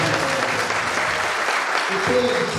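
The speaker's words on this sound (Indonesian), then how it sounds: "Mari kita berikan tepuk tangan yang mulia" Audience applause in a hall as a regent enters at an Easter youth camp gathering, a loud, dense, unbroken wash of clapping from many hands.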